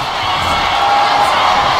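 Loud, sustained roar of a live WWE wrestling arena crowd cheering and whooping, a dense wall of voices rising slightly toward the end with no clear individual speech.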